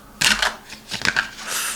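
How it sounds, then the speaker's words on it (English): Oracle cards being shuffled by hand, two bursts of crisp riffling and flapping with a brief pause between, close and fairly loud. "It's a bit hard to shuffle, as you can see."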